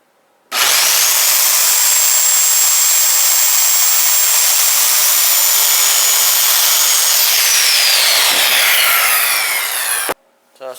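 A power saw rips through pallet wood while a raised garden bed is built, one loud continuous cut of almost ten seconds that stops abruptly, with no talk over it.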